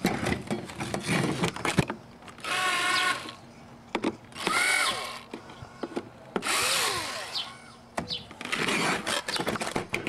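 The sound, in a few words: power drill loosening screws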